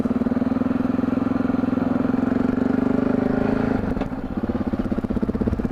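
Yamaha XT660Z Tenere single-cylinder motorcycle engine running steadily on a test ride, a loud, close, continuous throbbing drone that dips briefly near the end as the throttle eases, then resumes.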